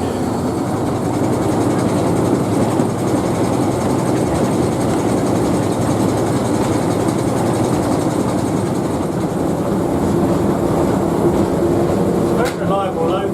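Heavy locomotive engine rumbling steadily while running in third gear on a hill, a continuous loud low drone with a brief clank near the end.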